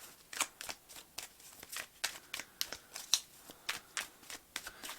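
Tarot cards being shuffled by hand in a quiet room, a steady run of crisp riffling and flicking bursts that come close together and stand alone without talk.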